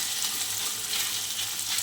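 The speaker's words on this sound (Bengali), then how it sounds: "এখানে রাঁধুনি ফোড়ন দিয়ে দিলাম, কাঁচা লঙ্কা" Radhuni seeds and green chilies sizzle in hot oil, a steady, loud, even crackling hiss held close throughout with no voices.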